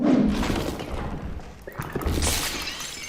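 A thrown gun shattering in the video game Superhot, a crisp glassy break followed by scattered thuds and debris, fairly close and loud.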